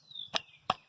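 Two sharp wooden knocks about a third of a second apart, close and distinct, as the buttstock of a Marlin 336 30-30 lever-action rifle is tapped back into place.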